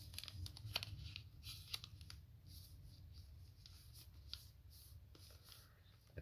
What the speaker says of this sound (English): Fold over the diagonal.